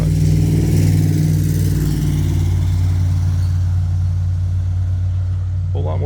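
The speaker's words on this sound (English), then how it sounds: "a whole lot more traffic than usual today" Steady, loud road traffic in Ludlow, Massachusetts, heard from a cemetery beside the road, with a continuous engine rumble and hum as vehicles pass close by, while a voice talks over it.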